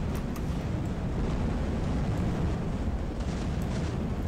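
A flamethrower fires in the mobile shooter game Free Fire, a dense, continuous roaring whoosh that holds at one loud level for the whole stretch with no voices over it.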